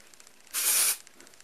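Suave Keratin Infusion dry shampoo is sprayed onto hair roots in a single close, bright hiss lasting about half a second, with quiet surroundings before and after.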